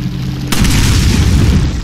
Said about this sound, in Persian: یه نفهمی اونجا هست، میخواد دینامیت پرت کنه.